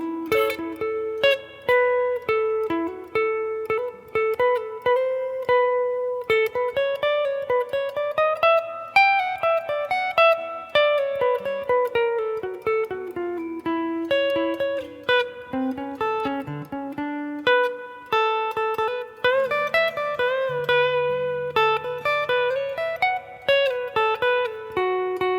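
Electric guitar plays a lead solo from a 1977 take, a steady stream of picked and pulled-off single notes weaving up and down the neck, close and clear with no talking.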